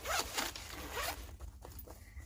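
A coloured pencil case being unzipped at a craft desk, with two long rasping zipper pulls close up followed by softer small clicks and rustles, no talking.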